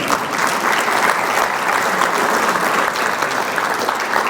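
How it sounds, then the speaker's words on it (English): Sustained applause from a conference audience at a city's State of the City address, dense and steady throughout, with no talking over it. "You can applaud that too, folks."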